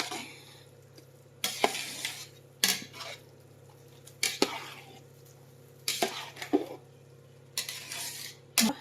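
A utensil stirs a mixture in a metal pan until it comes together, giving repeated sharp scraping and clinking strokes in bursts separated by a low steady hum.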